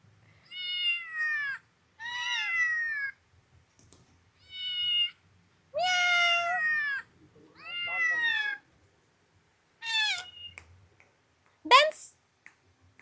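A parrot at a pet shop imitating a cat's meow, giving a series of clear, close meow-like calls separated by short pauses, with a sharp high squawk near the end.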